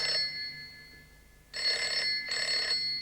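A telephone bell rings in two loud bursts of about a second each, heard alone, with a fainter hint of ring at the very start, in a scene at a house in a 1970s-era TV prison drama.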